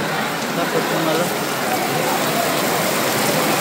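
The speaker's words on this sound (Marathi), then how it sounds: "मित्रांनो बघा किती जोरात पाऊस चालू झाला" Heavy rain pours down steadily at Tirupati, a dense, unbroken hiss of water close by and fairly loud with no letup, while a person talks faintly underneath.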